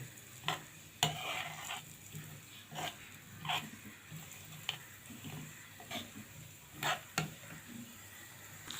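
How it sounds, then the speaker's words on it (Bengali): Semolina frying in ghee in a pan while being stirred, a soft continuous sizzle broken by repeated sharp scrapes and taps of the spoon against the pan, close and fairly quiet with no talking. "নেড়ে চেড়ে ভালো করে সুজিটা ঘি দিয়ে ভেজে নিব।"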